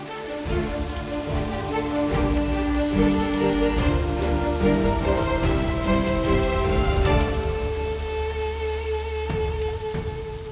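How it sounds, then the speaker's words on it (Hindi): Heavy rain pours down in a steady, dense hiss of drops on surfaces, continuous and loud, with a low tonal hum underneath and no voices. "बारिश तेज हो रही है"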